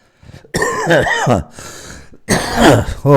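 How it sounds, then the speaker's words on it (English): Several rough, throaty coughs and throat-clearing bursts close by from a person with a cold, bunched in two clusters with a short gap between them. "can't stop coughing"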